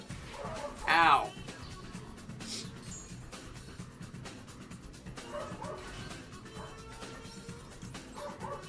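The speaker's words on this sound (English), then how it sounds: "I can't shut the dogs. They're not my dogs. They always bark around this time." Neighbourhood dogs bark, one loud yelping burst near the start, then faint scattered barks in the background under quiet speech.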